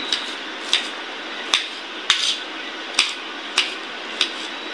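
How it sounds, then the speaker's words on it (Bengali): A kitchen knife slicing garlic cloves on a cutting board while preparing stir-fried greens, giving sharp, evenly spaced taps roughly every half second, close and clear over a quiet background. "এখন আমি রসুনগুলিও ফালি ফালি করে নিচ্ছি"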